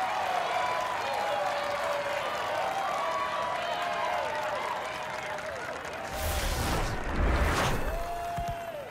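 A large video game stadium crowd in FIFA 23, Barcelona vs Real Madrid, roars steadily, swelling into louder cheering near the end, with an excited voice speaking over it.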